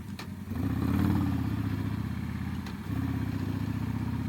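A 2006 Harley-Davidson Sportster 1200 motorcycle rumbles along below 2000 RPM, a steady low throbbing engine note at moderate loudness, dipping briefly mid-ride before settling back into the same smooth cruise.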